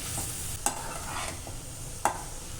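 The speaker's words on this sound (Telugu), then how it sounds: "ఇవి బాగా మెత్తబడే వరకు టమాటా పచ్చివాసన పోయే వరకు అయితే వేయించండి" Tomatoes frying in a pan for a Bengali-style fish curry, with a soft sizzle running beneath two sharp clinks of a spoon as the mixture is stirred, close and fairly quiet with no talking.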